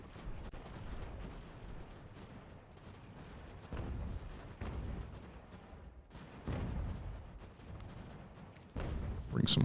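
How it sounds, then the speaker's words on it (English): Massed musket volleys and artillery fire in the Ultimate General: American Revolution game rumble continuously at a distance, with repeated booming surges and crackling gunfire rising and falling, plus a sharper close crack at the end. "So many people shooting."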